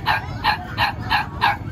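Dogs bark in a quick, even series of five sharp yips at an outdoor dog market, close and fairly loud over a low crowd murmur.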